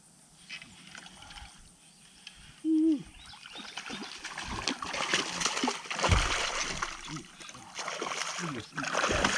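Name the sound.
bass splashing on the water while hooked on frog lure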